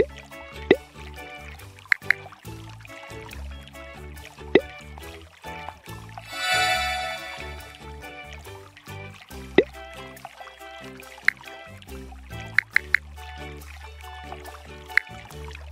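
Cartoonish water sloshes, drips and plops in the Splash Dash puzzle game, with a brief rushing pour in the middle and scattered droplet clicks over a light musical background.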